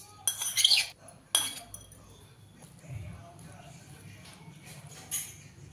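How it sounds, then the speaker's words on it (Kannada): A spoonful of coriander seeds tipped into a small mixer jar in a home kitchen, giving two quick bursts of light rattling clinks near the start, then faint scattered ticks and handling noise. "ಒಂದು ಸಣ್ಣ ಜಾರ್ನಲ್ಲಿ 1 ಸ್ಪೂನಷ್ಟು, 1 ಸ್ಪೂನ್ಗಿನ ಕಮ್ಮಿನೇ ಧನಿಯಾ ಕಾಳು ಹಾಕೋತಾ ಇದ್ದೀನಿ"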